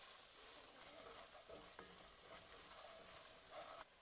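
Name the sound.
stirring Cajun seasoning into jambalaya in pot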